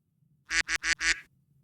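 A person imitates a bird over a Discord voice call, giving four quick, loud, evenly spaced honking quacks like a duck, alone against faint background hum.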